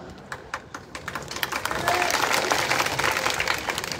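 An audience at a political speech breaks into applause, scattered claps building into a dense, steady round of clapping that holds to the end.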